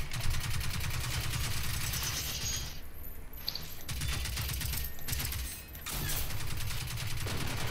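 A player's weapon firing armor-piercing rounds in the game Generation Zero, with loud, dense rapid-fire bursts sustained over several seconds and a couple of short pauses between volleys.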